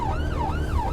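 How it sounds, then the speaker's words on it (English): Ambulance siren on blue lights, a loud wailing tone sweeping up and down repeatedly, close by and continuous, over low engine rumble with no talk. "Bloody siren, they're doing my head."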